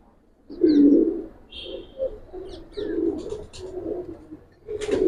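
Giribaz pigeons coo in a loft, several close, throaty rolling calls following one another with short gaps, a few higher chirps scattered among them.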